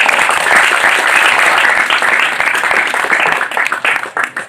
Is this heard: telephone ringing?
no